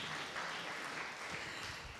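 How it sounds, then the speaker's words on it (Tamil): An audience at a Tamil speech event by a film director claps together, a soft, fairly distant patter of many hands that stays even for about two seconds. "ஒரு ஓங்கி கைத்தட்டுங்க."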